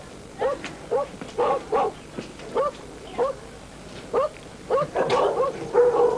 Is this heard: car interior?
no